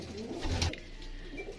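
Pigeons in a breeding loft give a brief, soft coo over faint background noise, lasting under two seconds, with no voices.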